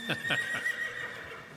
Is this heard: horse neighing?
yes